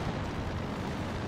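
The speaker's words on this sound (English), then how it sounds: "There's that creeping barrage." Artillery shells from a creeping barrage explode continuously in the strategy game Company of Heroes 2, a dense, rumbling roar of overlapping blasts with no talk.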